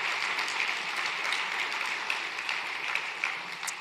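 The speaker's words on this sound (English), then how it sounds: "Let's please give them all a round of applause." Applause from a conference audience at a climate and buildings summit plenary, a sustained, even rush of many hands clapping at moderate level from a large hall, continuing throughout.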